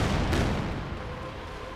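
Artillery bombardment in Company of Heroes 2, a heavy low booming explosion rumble that rolls on and slowly fades over a couple of seconds.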